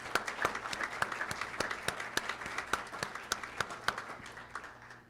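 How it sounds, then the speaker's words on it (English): An audience claps at a nursing pinning ceremony for university nursing graduates, a steady patter of many hands with a few distinct sharper claps, moderately distant and gradually fading out at the end. "Let's please give that a round of applause."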